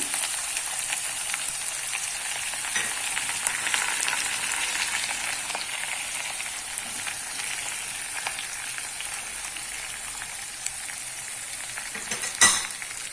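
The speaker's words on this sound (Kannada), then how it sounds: "ಈಗ ಇದಕ್ಕೆ ಈರುಳ್ಳಿ ಸೇರಿಸ್ತೀವಿ." Onions fry with cumin, urad dal and chana dal in a pan, making a continuous close crackling sizzle with occasional stirring taps and a sharper clatter near the end. No voices are heard.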